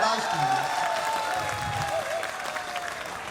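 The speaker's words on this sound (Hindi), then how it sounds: "आप गाने में ही ताली बजा रहे हैं" An audience at an Urdu book fair's musical storytelling performance applauds in a dense, steady patter that fades slightly by the end, with a voice briefly audible over it.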